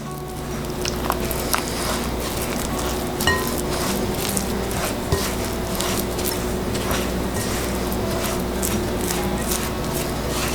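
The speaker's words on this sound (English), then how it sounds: "I'm going to continue to mix this." Low fat Trini barfi mixture being stirred in a pan, a steady scraping and mixing texture with soft clinks and a faint sizzle running throughout, close and continuous with no talking.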